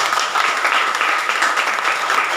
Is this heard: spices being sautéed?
no